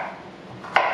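A knife chopping butternut squash on a cutting board, a single sharp chop standing out after a quiet, soft background.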